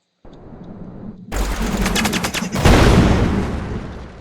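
Loud automatic gunfire from a weapon in a first-person video game made with Unreal, erupting after a short quiet lead-in into rapid, dense bursts that build to a heavier volley near the end.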